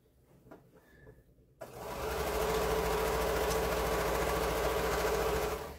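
A sewing machine stitching a quilt seam runs steadily and loudly for several seconds after a few quiet handling sounds, with no talking.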